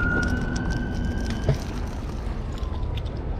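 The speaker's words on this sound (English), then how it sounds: "ambulance." An ambulance siren sounds at a busy street corner in Arizona, a faint steady wail above loud low traffic rumble for a few seconds.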